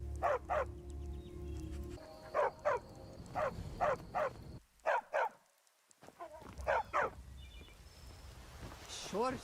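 Dogs barking in the video game Skyrim, repeated sharp barks in quick pairs and short bursts, close and fairly loud, with a brief near-silent gap partway through.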